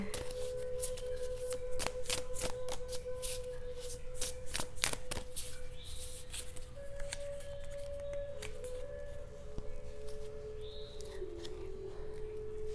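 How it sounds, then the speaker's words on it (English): A deck of animal spirit cards shuffled by hand, steady close riffling and flicking cards running throughout under a soft continuous tonal hum. "I'm calling just one card, one animal spirit card, to anchor our center."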